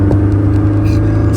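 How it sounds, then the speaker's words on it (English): A Honda S2000 being driven without a clutch pedal, its engine a loud, steady low rumble from inside the cabin throughout the short stretch. "Like, y'all hear me driving."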